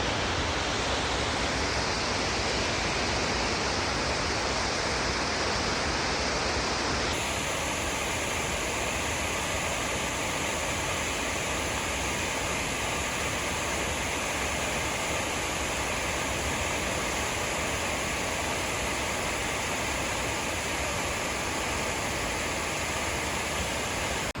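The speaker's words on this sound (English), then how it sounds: "So it's an impressive waterfall." A waterfall in Gorges State Park, North Carolina, a loud, dense and unbroken roar of falling water that fills the whole scene without a break and with no voices.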